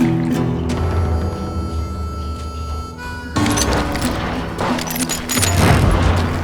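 Gunfire in the Western shooter Call of Juarez Gunslinger comes as loud booming reports over a droning game soundtrack, followed by dense crashing bursts and blasts toward the end.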